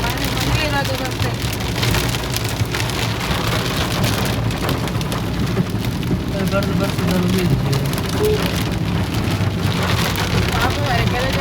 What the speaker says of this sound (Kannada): ಮ್ಯಾಂಗ್ಳೂರಲ್ಲಿ ಮಳೆ ಬಂತು